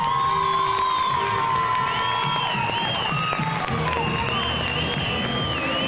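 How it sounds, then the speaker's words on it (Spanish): An audience at a children's pageant applauds and cheers the winners: dense continuous clapping, with high children's shouts and whoops on top and a voice over the speakers at a distance. "Fuerte los aplausos para el cuadro de las ganadoras."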